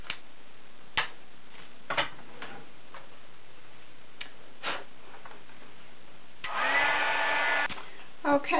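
A heat gun used to melt embossing powder on a paper craft starts up with a brief whooshing blow after several soft ticks and taps, running for about a second before stopping, with quieter room sounds around it.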